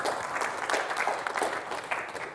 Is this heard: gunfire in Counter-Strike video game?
no